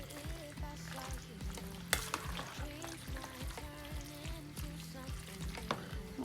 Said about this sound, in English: So I'm going to stir all this up.